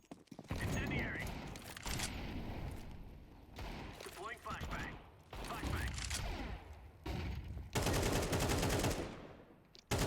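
AK rifle fire in Counter-Strike, repeated bursts and single shots breaking through a busy mix of game sounds, with voices talking over much of it.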